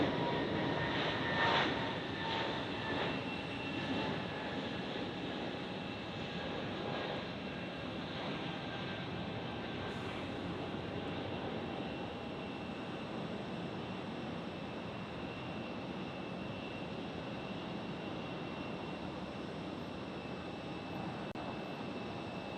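An airliner landing at Tampa International Airport, a steady distant jet engine roar with turbine whine, slowly easing over a long stretch with no talk.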